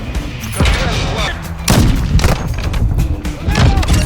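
Sniper rifle shots ring out in Call of Duty Modern Warfare 2, several loud booming reports with echoing tails spaced a second or so apart, with a voice talking over them.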